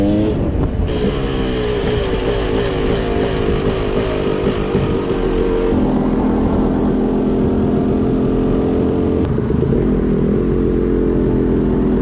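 A dirt bike engine drones loud and close, with a continuous buzzing tone that shifts pitch midway as it revs; no talk over it.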